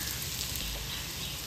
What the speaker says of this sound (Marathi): टोमॅटो टाकून मिक्स करून घेते। टोमॅटो टाकून परतल्यावर